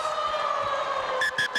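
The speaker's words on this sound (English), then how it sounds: "But the full-time siren sounds in the background." A long, steady full-time siren wails at a football stadium during a rugby league match, over faint background noise, with a few short bursts of sound near the end.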